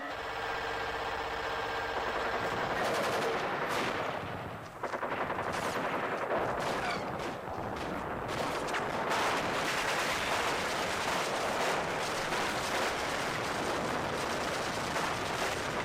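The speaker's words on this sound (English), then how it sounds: "Logic units are opening fire with some firepower that I have never seen before." Sustained bursts of gunfire and heavy explosive blasts from rockets fill a staged emergency-broadcast battle scene, loud and continuous with rapid cracks over a constant roaring din and no voices.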